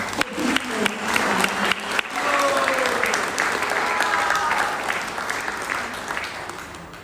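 Sustained applause from a congregation of devotees at an anniversary gathering, many hands clapping steadily, with voices calling out and murmuring over it, slowly fading.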